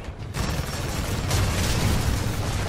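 A dense burst of rapid gunfire and booming impacts in the video game Titanfall 2 fills the whole moment, loud and continuous, with a brief pause early on.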